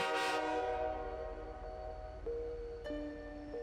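A train sounds its horn, a loud sustained chord that fades from a strong start, then shifts to lower held tones near the end as the train moves off.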